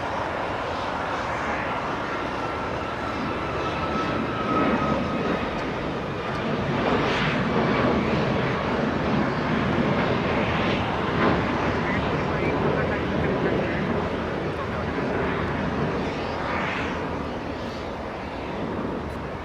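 An American Airlines jet airliner arrives at LAX from Dallas, its engines a continuous broad roar that holds steady and fairly distant throughout, swelling only slightly.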